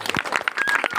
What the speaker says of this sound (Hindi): ये बात, जोरदार तालियां हो जाए भाई।